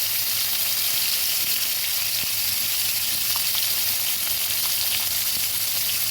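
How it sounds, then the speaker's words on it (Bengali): Koi fish sizzling in hot oil in a pan, a steady bright frying hiss with scattered small pops and crackles, close and continuous with no talking. "আস্তে করে মাছগুলো ভেজে নিচ্ছি"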